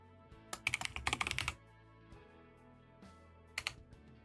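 Keyboard typing in bursts during play of the visual novel demo REDLINE Strings of Fate: a dense run of key clicks, then a pause and two short later bursts, fairly faint with no talk.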